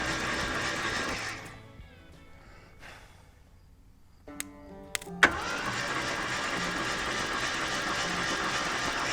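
An abandoned 1976 Jeep CJ5 engine cranks over, with a loud churning run at the start, then a near-silent gap broken by a few sharp clicks and knocks before loud cranking resumes and continues steadily to the end.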